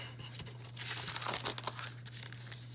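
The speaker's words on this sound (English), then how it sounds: "So I'm gonna kind of just fold it right there." Craft paper being folded and creased, a close crinkly rustle that builds and crackles for a couple of seconds over a steady low electrical hum, with no voice.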